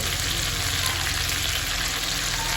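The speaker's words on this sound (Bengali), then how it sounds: "এবারে ভালো করে এটা কষিয়ে নেবে" Ginger paste and cumin powder frying in oil in a pan, a loud, dense, unbroken sizzle heard up close with no voices.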